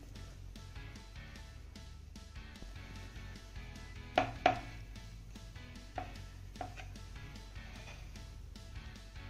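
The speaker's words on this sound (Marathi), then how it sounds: "त्यानंतर ह्या चपात्या आपल्याला चाकूच्या साहाय्याने कट करून घ्यायच्या." A knife cuts through steamed chapatis on a rolling board, giving a few soft, scattered taps and thuds against a quiet kitchen background, with a couple of sharper knocks in the middle and no talking.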